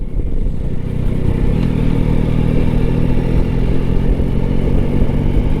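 A 2024 Yamaha Tracer 9 GT motorcycle on a test ride gives a loud, steady engine drone mixed with heavy wind rush, sustained without a break and with no talking.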